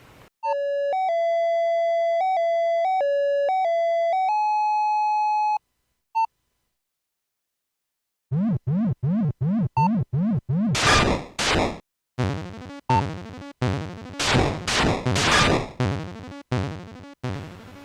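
Buck Rogers: Planet of Zoom sound effects on the Commodore 64 play alone: a few clean electronic beep tones, a pause, then rapid pulsing zaps and bursts of harsh noise in a quick, choppy rhythm.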